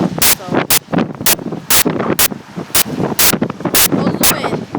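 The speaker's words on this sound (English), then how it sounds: "This is how windy it got and how cold it is." Strong blizzard wind buffets the microphone in harsh, repeated loud gusts and blasts, with rumbling wind roar between them outdoors in freezing conditions.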